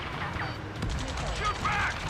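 Automatic gunfire crackles under radio chatter in the Ace Combat 7 video game, a steady rattle of shots mixed with voices shouting orders over a battle din.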